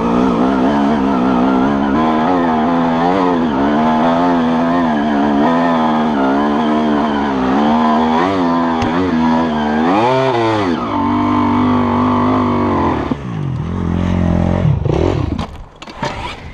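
Two-stroke dirt bike engine held at wide-open throttle, a loud, close, continuous high-pitched wail with rising and falling rev sweeps, briefly dipping before climbing again near the end.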